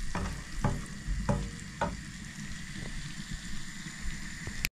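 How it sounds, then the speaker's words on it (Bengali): Garlic and ginger gently frying in butter give a soft continuous sizzle, broken by a few crisp taps and scrapes of a stirring spoon in the pan, close and with no talk. "সুন্দর করে আস্তে আস্তে বাটারের মধ্যে গার্লিক এবং জিঞ্জারটাকে আমি একটু ভেজে নেব।"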